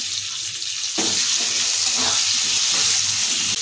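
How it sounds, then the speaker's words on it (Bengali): Potato pieces sizzle in hot oil as they brown for a fish curry with eggplant. A constant near crackle is broken by sharp stirring clacks and scrapes. "আলুগুলো লাল লাল করে ভেজে নেব"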